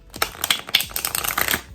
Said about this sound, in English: For some of you, the sound of shuffling is very soothing.